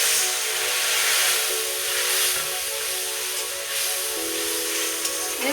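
Water hits ground spices, including cumin, in a hot pan for an egg curry. A loud, continuous, close sizzling hiss follows, easing slightly over a few seconds.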